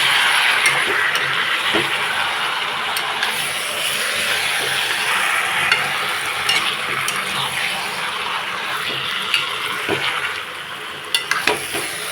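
Chicken coated in chili powder is stirred in a hot pan, with a steady loud sizzle and frying hiss and repeated scraping strokes of a spoon throughout.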